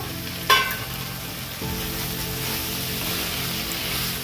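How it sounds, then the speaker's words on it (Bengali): Steady frying sizzle of potatoes with spices in a pan after a brief clatter, with a stirring shift partway through; continuous, close and fairly loud, with no voices. "এবার মশলাটা ভাজা হয়ে গেছে, এবার আলুটা দিয়ে একটু একটু কষাবো।"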